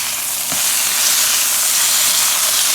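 A stuffed beef roll browns in a hot pan, giving a loud, continuous sizzle and crackle of frying fat heard up close, with a faint knock near the start.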